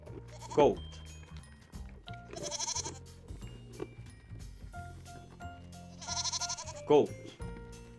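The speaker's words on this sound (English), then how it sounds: "It's a goat." Two goat bleats, a short quavering cry near the start and another near the end, ring out over an upbeat children's song playing continuously underneath.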